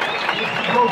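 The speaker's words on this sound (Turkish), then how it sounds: "Recep Kara hocamızı bir alkışlayalım şöyle." A crowd at an outdoor wrestling event on Perşembe plateau in Aybastı, Ordu, applauds wrestling coach Recep Kara. The clapping is a brief, loud, dense burst.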